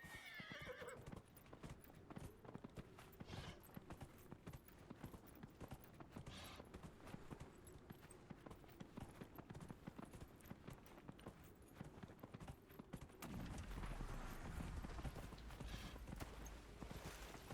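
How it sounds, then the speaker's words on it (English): Steady, brisk hoofbeats of a horse clip-clopping in a video game, a continuous rhythmic trot at moderate level, with a neigh or whinny near the start and a shift in background noise late on. "Get off the horsey."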